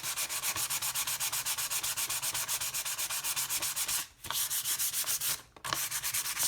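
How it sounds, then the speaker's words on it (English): Fine 320-grit sandpaper lightly rubbed over a wooden AK rifle stock in steady, rapid back-and-forth strokes, close and continuous, with two brief pauses. "we're just going to take this 320 grit fine sandpaper, and we're just going to lightly, ever so lightly, sand this stock"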